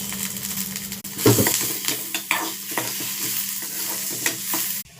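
Garlic and curry leaves frying in oil for a brinjal palya, a close sizzle under repeated scraping stirs of a spoon against the pan, with occasional metallic clicks; no talking.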